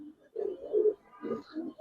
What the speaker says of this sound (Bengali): মাদি কবুতর, হ্যাঁ মাদি কবুতর